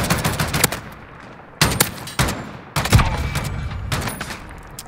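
Heavy booming shots from a 50 cal bullpup rifle ring out in Modern Warfare 2019, five or six loud single reports spaced irregularly, each trailing off in a rumbling echo.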